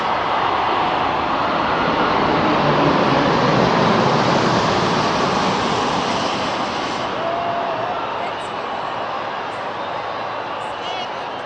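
A South African Airways aircraft flies over at a ceremony, a broad roaring jet wash that swells and then slowly recedes, with an announcer speaking over it.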